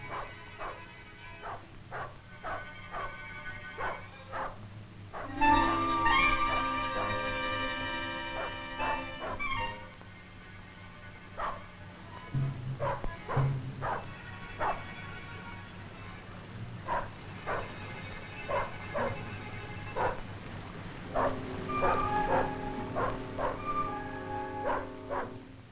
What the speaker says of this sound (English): the dog's barking tells Anand that the bear has been cornered